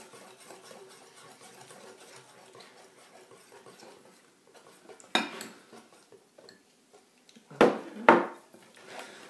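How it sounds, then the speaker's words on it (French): Shortbread dough of butter, icing sugar, vanilla sugar and egg stirred in a bowl for a chocolate recipe while cornstarch goes in, with quiet scraping that gives way to a few louder clinks and knocks of utensil on bowl near the end. "Toujours en remuant."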